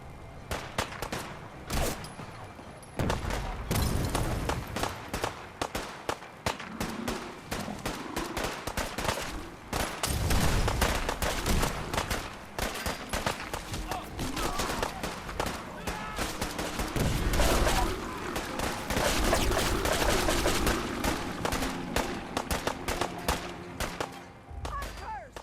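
Sustained gunfire in the Fallout 4 video game: dense, rapid bursts of shots and heavy booms that keep going for the whole stretch at loud, steady intensity, with a few brief gaps early on.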